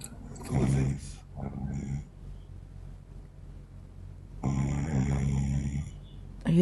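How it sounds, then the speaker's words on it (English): A man snores in loud, rough bursts, two quickly early on, then a longer one after a quieter pause, with low breathy gaps between them. "Is he snoring?"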